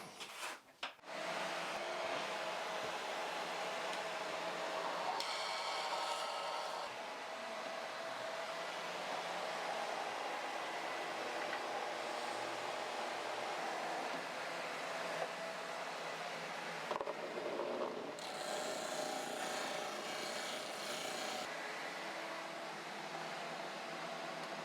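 A shop vac draws through a homemade bucket cyclone separator with a steady, loud whine and airy roar that holds nearly constant for the whole stretch, its pitch shifting slightly in a few brief moments.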